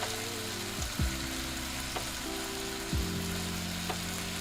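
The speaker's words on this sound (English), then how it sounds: "Frying some chicken" Chicken thighs and breasts sizzle steadily in a pan, a soft continuous crackle close by at low level, with occasional faint clinks and no talk.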